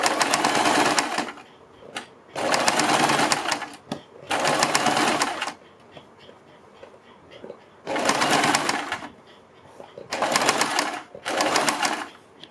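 A sewing machine stitches a fabric strip for a suit or kurti neckline in several loud, close bursts of a few seconds each, separated by quieter pauses where soft background sounds remain.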